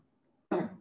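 A single sudden, close cough breaks a quiet pause in an Indonesian-language talk, loud and short after a near-silent lead-in.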